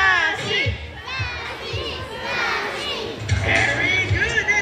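A group of girls cheers for a bird at a bird show at Manila Ocean Park, loud excited children's voices chanting in repeated rhythmic bursts with crowd noise around them.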